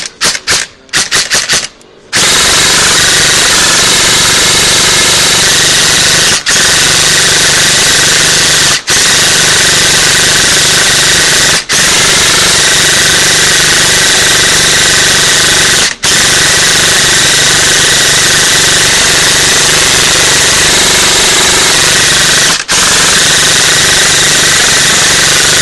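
Loud, continuous mechanical rattle of an Echo1 Troy Speed Gear 16:1 airsoft gearbox running under power, buzzing steadily with brief stops and restarts, close up.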